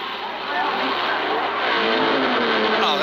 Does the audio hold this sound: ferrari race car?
yes